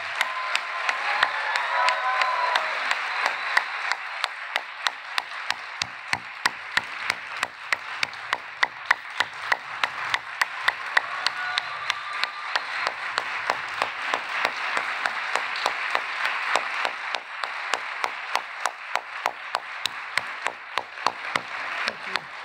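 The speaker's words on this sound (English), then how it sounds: "let's hear your applause for them, please" An audience gives sustained applause for teaching award recipients at a university award ceremony: dense, steady clapping from a large crowd that continues for over twenty seconds without a break.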